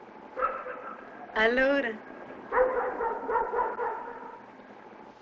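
A mongrel dog in a city street gives a few short yips and a whimpering bark, close by and mixed with people talking.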